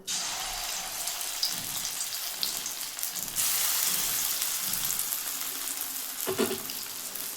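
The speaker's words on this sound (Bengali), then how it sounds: "তেল আমি এবার এই যেটা মেখে রেখেছিলাম বাঁধাকপি আর মুসুর ডালটা ওটা আমি এবার বড়ার আকারে ভেজে নেবো" Cabbage and red lentil fritter batter frying in hot oil, a loud steady crackling sizzle close up that flares brighter partway through, with a brief utensil knock near the end.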